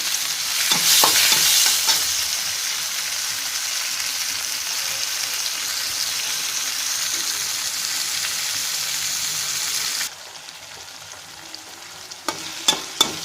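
Brinjal sizzles and crackles steadily in a hot pan, with occasional scraping stirs and a few sharp clinks of a spoon near the end.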